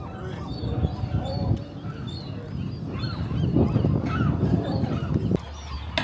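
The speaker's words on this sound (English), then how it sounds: "Just hear all the birds." A dense chorus of birds at a nesting area on Alcatraz Island, San Francisco, calls over steady rumbling background noise, with many overlapping honks and cries at moderate distance.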